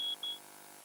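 A smoke alarm in a television advert gives two short, shrill, high-pitched beeps in quick succession, clear and isolated, followed by a faint hum.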